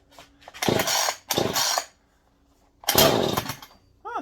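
Three loud revving bursts from a Husqvarna 440 chainsaw with a non-adjustable carburetor, each lasting about half a second to a second, separated by short pauses as the trigger is pulled.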